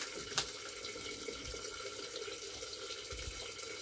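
Water runs steadily through garden watering pipes in a vegetable bed, a faint continuous hiss and trickle with one small splash near the start.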